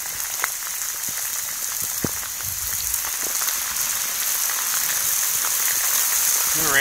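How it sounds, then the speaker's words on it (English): Rain in a rainstorm falls hard in a constant hiss, with occasional sharper drops hitting close by; the downpour swells slightly toward the end. "It's raining harder."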